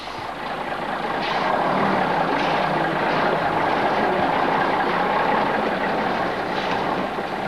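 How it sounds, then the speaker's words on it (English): A heavy truck rumbles and drives off after its cargo is unloaded, a loud, steady low engine drone with a brief hiss near the start and no talk. "they quickly headed the truck back to Wilhelmstad in hopes of returning with the second building before dark"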